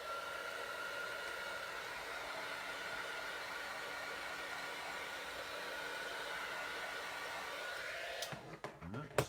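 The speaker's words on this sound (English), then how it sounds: "I'm just going to give this a quick blast with my heat tool" A heat tool blasts hot air steadily to dry alcohol inks, a constant loud whooshing roar that holds for about eight seconds before cutting off with a few clunks and handling noises.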